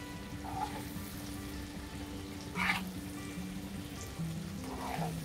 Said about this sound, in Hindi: यहाँ पे देखिए खूब अच्छे से जो भेजा है वो फ्राई हो रहा है